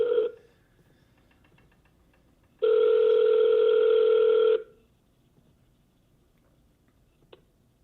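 A phone call is placed: a short tone and faint dialing clicks, then a loud, steady two-second ring tone, followed by quiet and a single small click near the end.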